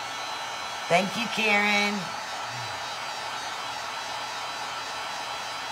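A hair dryer blows steadily throughout, drying a painted leaf, a constant airy whoosh heard under a brief spoken remark.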